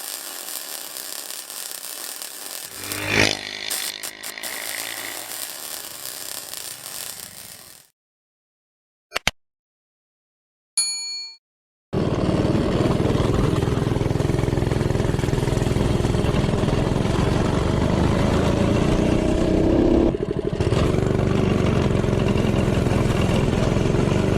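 A Coleman CT200U-EX minibike with a 196 engine and jackshaft drive: the engine runs and revs briefly, then cuts out to near silence with a couple of short bursts, then roars loud and steady at full throttle.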